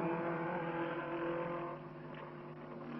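Race car, number 8, passing on a racing circuit during a Glover Trophy race, a steady droning engine note with strong harmonics that softens slightly as it goes by, fairly faint.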